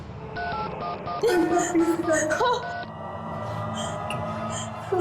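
A run of short electronic telephone dialing tones sounds in quick succession while voices talk over them, in a horror drama scene.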